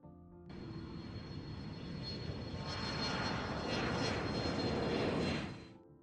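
A Pratt & Whitney R-2800 Wasp, an 18-cylinder two-row radial aircraft engine, runs with a steady, dense roar. It starts suddenly, builds slightly louder and holds, then fades near the end, and no voices are heard over it.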